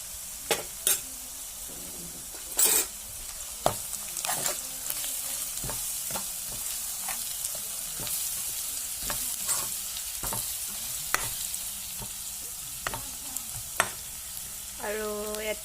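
Local chicken frying with salt and turmeric, stirred in a pan: a steady close sizzle broken by repeated scrapes and knocks of the spoon against the pan, with no talk.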